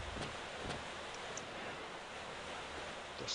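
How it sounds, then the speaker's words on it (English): A waterfall in the middle of a room on a fan-made Star Wars Jedi Academy game map gives off a steady, even rushing roar that fills the whole clip with no break. "just a waterfall in the center of the room. A lot of noise"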